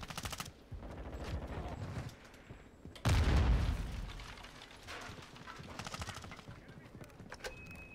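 Gunfire in Call of Duty Modern Warfare 2: rapid automatic bursts crackle near and loud, then a heavy boom hits midway, followed by further bursts and game sounds, with some voice underneath.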